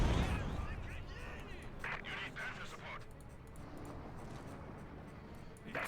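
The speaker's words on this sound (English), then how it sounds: "And he's bombarding the base here." Artillery pounds a base in Company of Heroes 2, with dull booms and scattered blasts under continuous talking.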